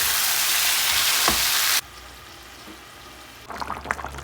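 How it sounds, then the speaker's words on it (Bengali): Eggplant and potato fry with spices in a pan. A loud, hissing sizzle cuts abruptly to a quieter simmer, then scraping stirs and clatter return near the end. "মশলার সাথে ভালো করে ভেজে নিচ্ছি বেগুন আলু"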